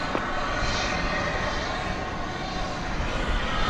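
An airplane roars steadily on takeoff at DFW Airport at night, a loud continuous engine rumble filling the whole stretch without pause.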